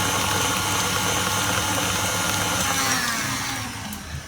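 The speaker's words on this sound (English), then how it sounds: "we're going to give that a mix just till it's well incorporated" An electric mixer whirs steadily as it beats cheesecake filling for a no-bake raspberry and cream cheesecake, a loud continuous motor drone close by that eases off near the end.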